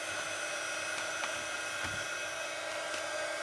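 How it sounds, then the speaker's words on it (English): A craft heat tool blows hot air in a steady, close whirring hiss that runs unbroken and alone, with a few faint clicks and taps on top. "I'm just going to get my heat tool, get that hot enough"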